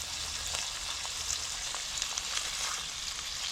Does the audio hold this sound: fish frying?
yes